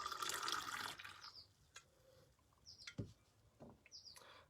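Water poured from a kettle over coffee grounds in a V60 dripper, a steady splashing stream for about a second, then quiet with faint drips and small trickles.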